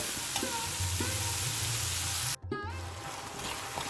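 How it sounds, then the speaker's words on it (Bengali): Chicken mince for Dhaba-style keema matar sizzles loudly in a pan as a spoon stirs and scrapes through it, a steady close frying hiss with a brief break. "চিকেন কিমাটা দিয়ে খুব ভালো করে কষিয়ে নিতে হবে আমাদের"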